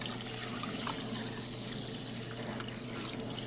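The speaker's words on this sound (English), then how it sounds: "And then you're going to add 3 1/3 cup of water to soak the rice." Tap water runs steadily into a bowl of rice being soaked for sushi, a constant close splashing rush with no voices over it.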